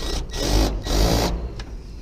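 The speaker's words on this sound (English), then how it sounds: "we're just going to fold it over so we're drilling into both sides of that bracket" A power drill runs in sustained bursts, biting into a metal bracket of a whirlybird roof vent on a metal roof, loud and close with brief pauses between runs.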